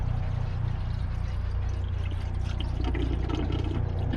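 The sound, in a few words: pouring coolant into car radiator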